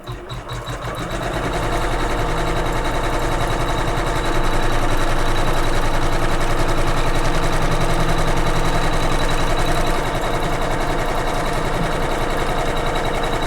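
A Kimberbell embroidery machine stitches on a hoop, tacking down batting for a pillow block, with a loud, fast, continuous mechanical chatter that ramps up at the start and holds steady throughout.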